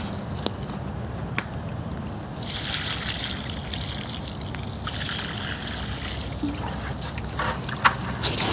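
Water poured over a riverside campfire to douse it: close, steady trickling and splashing, with faint crackles and a rising wash of hiss partway through.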